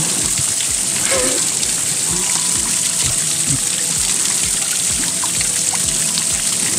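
Clear mountain stream water trickles and splashes steadily near a hiking trail between Encumeada and Folhadal on Madeira Island, with a constant bright rushing wash and small close drips.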